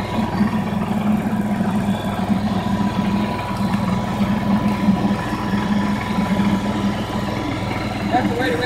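A Billy Goat brush mower's engine runs at a steady idle close by, a constant low droning hum that continues throughout while a person talks over it.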